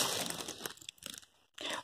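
Potato being peeled at close range, rough continuous scraping and crinkling strokes with short pauses between passes, fairly quiet.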